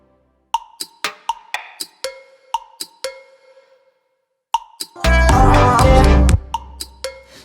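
Sound design samples in a music mix: a rhythmic series of sharp pops, clinks, thumps and resonant metal and wood hits, cleanly spaced with decaying tails, interrupted by a dense loud burst before the tuned hits return.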